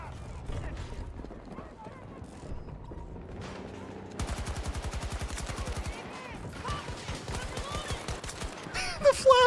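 Gunfire in Battlefield 2042, a string of sharp repeated shots in bursts over a low game background, growing louder toward the end, with people talking throughout.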